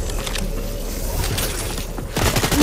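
Shotgun blasts from a video game, loud booming shots followed by a burst of rapid gunfire near the end, heard up close without speech.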